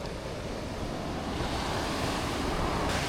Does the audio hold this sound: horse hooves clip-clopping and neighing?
no